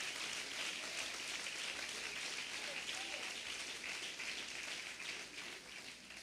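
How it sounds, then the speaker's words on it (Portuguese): A church congregation applauds in a dense, continuous wash of clapping that sounds like heavy rain, steady and fairly distant, fading a little at the end. "Esse aplauso é para a igreja"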